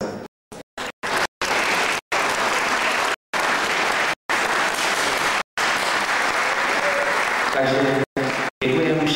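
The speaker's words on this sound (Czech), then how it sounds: "myslím si, že to zasluhuje velký potlesk" Applause from an audience at a 10th anniversary celebration of OÁZY Hodonín, steady dense clapping broken by repeated abrupt dropouts, with a brief voice near the end.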